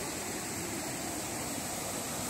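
Cachoeira do Arruda, a waterfall in the municipality of Morros, pours as a constant broadband rush of water, steady and unbroken, with no voices.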